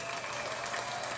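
Clapping from a crowd fills the short stretch as a steady, dense wash of many hands, even and unbroken from start to end with no voices over it.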